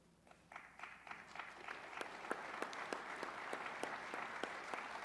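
Audience applause breaks out during a Canadian employment minister's speech on the housing crisis, starting from sparse claps and swelling into steady, dense clapping from a sizeable crowd that holds its level to the end.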